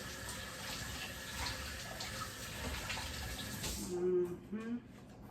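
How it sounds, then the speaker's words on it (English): Tap water runs into a kitchen sink as hands are washed under it, a close steady splash that cuts off near the end, leaving a few drips and light clatter. "Wash my hands real quick."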